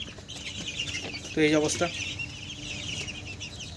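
Local desi chickens kept on a small farm give a brief, close burst of clucking midway, with someone speaking softly before it over steady background noise.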